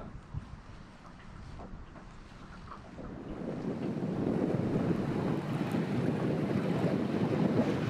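Strong wind buffets the microphone on a lake in Kainuu during pike fishing, with waves slapping nearby. The gusty rumble grows louder about halfway through and stays heavy, with no talk.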